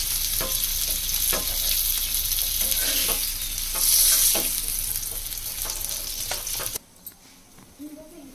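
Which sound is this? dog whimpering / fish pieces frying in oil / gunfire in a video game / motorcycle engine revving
fish pieces frying in oil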